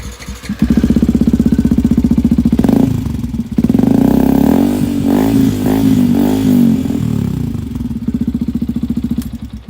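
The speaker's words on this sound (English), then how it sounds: "That's the bike running. It's obviously quite loud, as it's got no catalytic converter or baffles or anything in it." A Yamaha WR 125 X motorcycle engine running loud and close with no catalytic converter or baffles, a raspy single-cylinder idle with a couple of blips of throttle in the middle.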